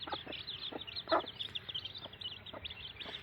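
Aseel hens with their chicks clucking and peeping outdoors, soft repeated calls scattered over a steady background, with no talk.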